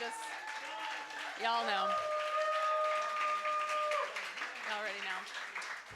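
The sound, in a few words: audience applause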